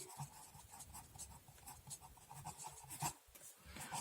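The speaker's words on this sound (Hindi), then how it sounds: "तो यहाँ लिखते हैं" Chalk or marker writing on a board during a Class 9 maths lesson makes rhythmic, scratchy strokes and small taps, close and fairly quiet, with brief pauses between words and no talking.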